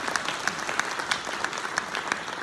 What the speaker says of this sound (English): Let's give a round of applause for being here.